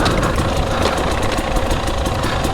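A Husqvarna TE300i dirt bike engine idles off-road with a loud, close, steady burbling rattle and rapid even pulses that continue throughout without a break.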